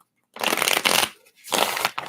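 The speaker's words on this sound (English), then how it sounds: "Shuffle these up." A deck of reading cards being shuffled by hand during a free card-reading livestream, two bursts of riffling and shuffling close by, separated by a short pause and ending with a brief tap.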